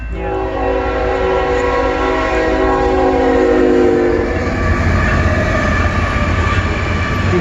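An eastbound CN mixed freight train with double-stack cars sounds a long, loud horn close by as it rolls past, and the horn gives way to the steady rumble and clatter of the wagons. One brief spoken word comes over the noise.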